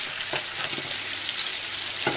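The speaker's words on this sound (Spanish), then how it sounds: "ya se están friendo y está cogiendo el característico rebozado del pollo Kentucky" Chicken pieces coated in KFC-style breading fry in hot oil, a loud, continuous sizzle with occasional crackles and stirring clicks, no voices.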